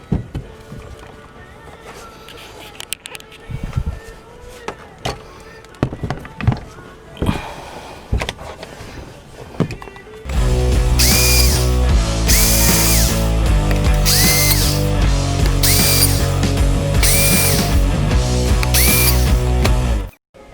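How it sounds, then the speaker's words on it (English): A power drill bores screw holes for a camper van roof vent. Scattered knocks and brief bursts come first, then a loud, sustained drilling whine with regular surges through the second half. "just drill holes all in here"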